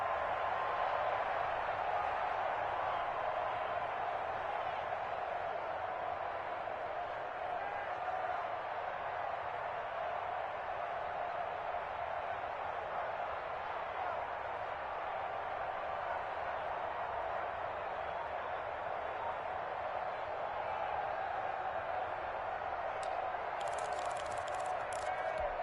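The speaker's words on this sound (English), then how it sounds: "this crowd urging on their defense. They're up and making noise." A stadium crowd in a PS4 football video game roars in a steady, dense wash of noise that lasts throughout, loud and unbroken, with commentary mixed in.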